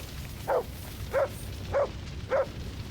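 A dog in the medieval video game Kingdom Come: Deliverance 2 gives four evenly spaced barks, each short and moderately loud over a low steady background hum.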